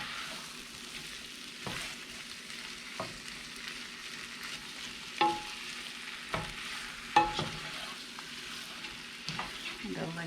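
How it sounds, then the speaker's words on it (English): Jumbo shrimp cook in butter while being stirred, a soft, even sizzle broken by occasional sharper scrapes and taps of the utensil against the pan. "And I like to stir my shrimp while it's cooking."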